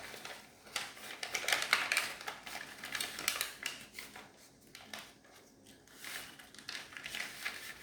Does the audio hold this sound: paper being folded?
yes